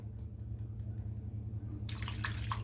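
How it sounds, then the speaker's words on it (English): Cold tap water runs and splashes as a razor is rinsed under it during a head shave, a steady broad hiss over low hum that grows brighter and louder in the final second. "this razor's not rinsing out very well with the cold water"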